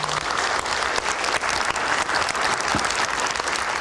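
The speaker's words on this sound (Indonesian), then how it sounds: "Boleh kita berikan tepuk tangan?" Steady applause from a crowd at a televised political talk show, dense clapping that fills the whole stretch at an even, fairly loud level with no talking over it.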